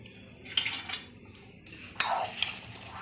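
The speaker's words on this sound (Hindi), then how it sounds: "मैं इस तरह मिक्स कर देती हूँ।" A spoon stirs fruit salad in a bowl, giving a few separate clinks and scrapes against the dish, near and fairly clear, with no talking.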